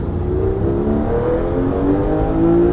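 Interior sound of a Porsche GT3 pulling from low revs: a loud, steady engine drone with rising harmonic tones as the revs climb over a couple of seconds, no talk.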